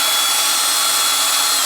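A power drill runs continuously and loudly, close by, mixing casting resin for pen blanks in a steady high-pitched whir.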